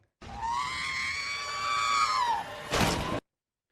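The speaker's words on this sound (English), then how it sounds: "hear the spookiness of the poor Modron screaming" A Modron, a small geometric creature in a video game, lets out a loud sustained scream of about two and a half seconds with a rising and falling pitch. A brief harsh burst follows just after it.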